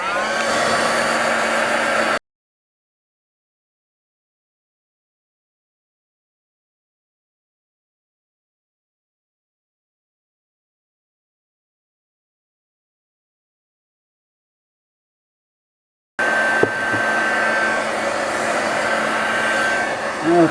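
A hair dryer blows steadily at close range over a mixed media flower plaque, a few seconds at the start, cutting to silence, then whirring again near the end.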